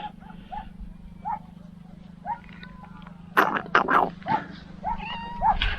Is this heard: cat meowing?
yes